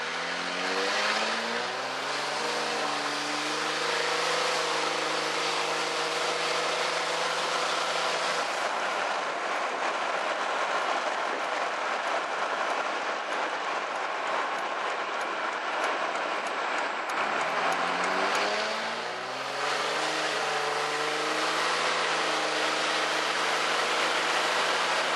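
A diesel vehicle on a tenth-mile time trial run, tested with Lucas Oil fuel additive: a steady, loud engine drone with a roaring rush, its pitch rising through gear changes and dipping twice before climbing again.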